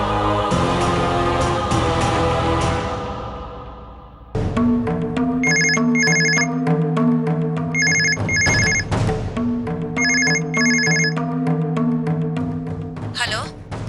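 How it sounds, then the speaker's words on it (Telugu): A telephone rings in a domestic TV-drama scene, sounding a repeated electronic ring pattern in three clear bursts after a stretch of loud background music. "అమ్మకి ఫోన్ చేసి కనుక్కుంటాను."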